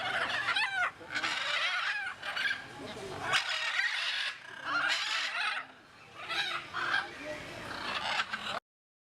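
Mixed bird calls at Jurong Bird Park in Singapore, a large aviary park, with repeated squawks and chirps continuing through the clip under steady background chatter.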